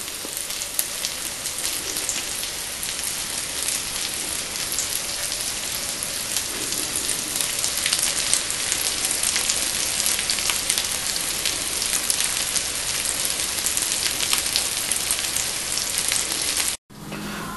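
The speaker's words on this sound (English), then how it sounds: "This is the starting process of grilling." Mini meatloaves sizzle steadily on a grill, a dense, even crackling hiss like rain that carries on for the whole stretch with no talking.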